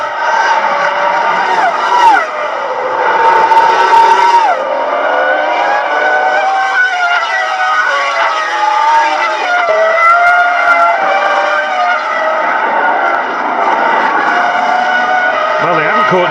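Formula 1 cars race at Imola in the 2005 San Marino Grand Prix, high-pitched V10 engines screaming and shifting pitch as they accelerate and pass, loud and continuous, with commentary talking over them.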